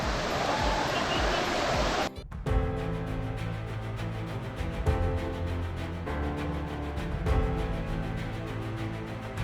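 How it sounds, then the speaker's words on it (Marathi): A waterfall on a day trip near Badlapur, heard as a dense, loud roar of rushing water that breaks off abruptly after about two seconds and gives way to a steadier hum. "आपण जाऊया वॉटरफॉलकडे आणि जवळून आपण जो आहे तो वॉटरफॉल बघूया"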